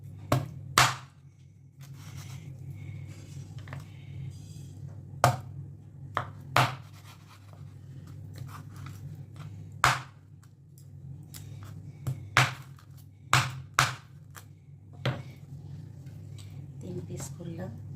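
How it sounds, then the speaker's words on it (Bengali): Magur fish is chopped into pieces on a board, giving sharp, close knife thwacks in irregular bursts over a low background hum. "আমি পিস করি, 3টে পিস করবো, নাহলে মাছ ভাজতে খুব অসুবিধা হবে।"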